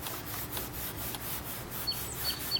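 Fine 0000 steel wool rubs back and forth over stainless steel car trim, a steady, soft, rhythmic scrubbing heard up close with no talking.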